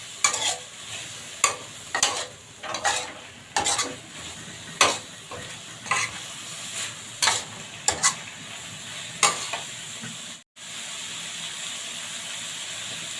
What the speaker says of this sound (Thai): ผัดให้เข้ากันนะคะ